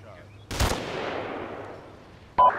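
An Enfield rifle fired at a Hind helicopter in Arma 3, one sharp loud crack with a long echoing tail, then a second short blast near the end.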